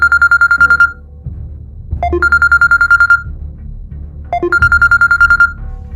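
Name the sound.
telephone ringing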